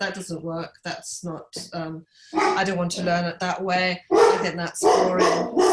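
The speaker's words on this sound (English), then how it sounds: "Sorry about the dog." A dog barks a few times inside a room, the barks mixed in with steady talking from a person throughout.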